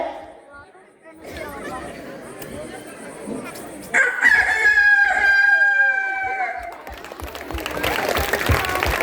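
A mimicry performer at the Kakamari village fair imitates a rooster's crow with his voice, a long rising-and-falling call standing out over crowd chatter and applause, with people talking around him.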